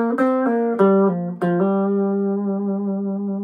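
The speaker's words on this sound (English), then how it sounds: "The clean channel is designed for a more classic, straightforward sound." A Yamaha Gigmaker electric guitar played through a small amplifier's clean channel: a short run of clear plucked notes, then one note held and ringing out steadily, with no talking.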